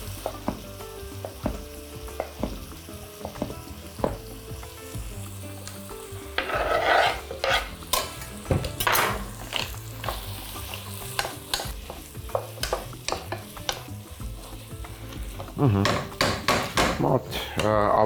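Strips of bacon frying in a pot, a dense close sizzle broken by frequent scraping and knocking of a utensil against the pot, with louder stirring bursts and no talk.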